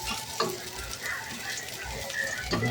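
Garlic sizzles and crackles softly in oil in a pan while being cooked for a Filipino fish sinigang, with a few scraping stirs through the quiet frying.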